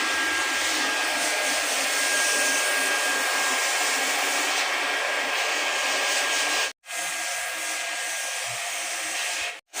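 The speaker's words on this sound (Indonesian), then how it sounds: "Ini harus kita las supaya dia menjadi kuat." Hot-air plastic welding of a water filter inlet: a loud, steady blower roar runs almost continuously, cutting out briefly twice near the end.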